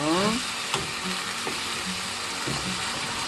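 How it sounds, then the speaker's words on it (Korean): Taro stems simmering in kelp broth in a pot give a steady, close bubbling sizzle that runs alone the whole time, with a few soft clicks mixed in. "다시마물이 토란대에 스며들 때까지 조금 자글자글 끓여 주십시오."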